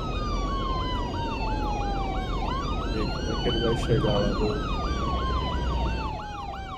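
Wailing ambulance siren in the city-building game Cities: Skylines 2, overlapping whooping and rising-falling tones from several vehicles, loud and continuous, with someone speaking briefly over it.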